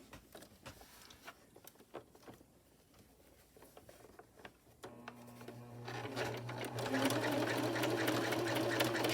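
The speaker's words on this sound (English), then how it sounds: "I'm going to sew around this whole bottom." A sewing machine stitches around the bottom hem of a doll-sized jean skirt, starting after a few quiet handling clicks and then running as a steady rapid whirring hum, close and moderately loud.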